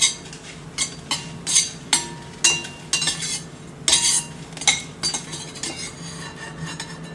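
Dried red chillies, added to a pan with a pinch of cumin while making curry-leaf chutney, rattle under a metal spoon in a series of close, sharp scrapes and clinks over a low hiss.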